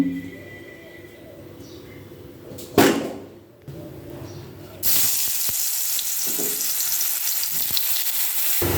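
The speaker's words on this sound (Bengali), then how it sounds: "এদিকে কলাটা ভাজা হতে হতে" Banana pieces seasoned with salt and turmeric frying in oil in a wok; a quiet start with a clatter, then a loud, steady sizzle takes over for the second half.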